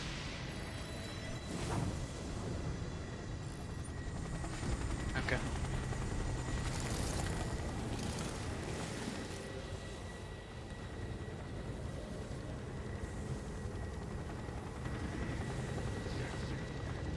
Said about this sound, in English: The GCPD chopper took care of that.